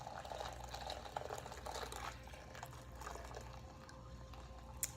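Hot water being poured into a pot for hand-washing laundry with detergent, a faint, steady trickle and splash heard near at low level over a background hum, with a few small clinks and no speech.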